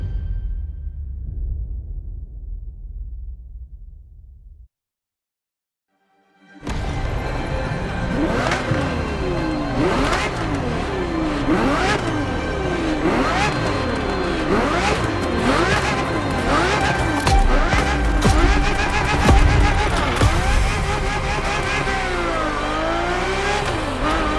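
A Ferrari F50 supercar engine in The Crew Motorfest revs hard after a brief silence, then roars loud and continuously, its pitch sweeping up and down through repeated acceleration.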